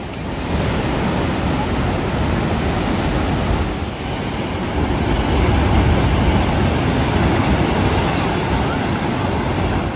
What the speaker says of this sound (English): You can go really close to the waves.